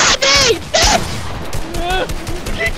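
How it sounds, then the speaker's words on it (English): Gunfire in the video game Fortnite sounds as quick bursts of sharp shots over a few seconds, mixed with excited players' voices shouting. "You shot me!"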